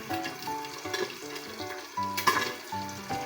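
Cooking oil poured into a hot pan before toasting meat, a close, steady frying sizzle with soft crackle under kitchen clatter and tonal background music.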